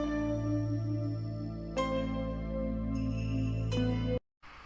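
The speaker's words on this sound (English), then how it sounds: "there's the accordion you just heard" Accordion plays in a song, holding sustained chords that shift a few times before cutting off abruptly near the end.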